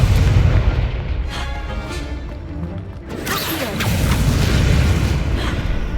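A Confringo blasting spell detonating in Hogwarts Legacy, heard as heavy booming explosions with a rumbling tail, then a fresh crashing burst about halfway through followed by sustained loud blast noise.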